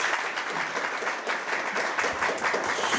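Dense, sustained applause fills a hall at a National Assembly forum in Korea, a steady crowd-wide clapping wash welcoming a lawmaker to give congratulatory remarks, with no talk over it.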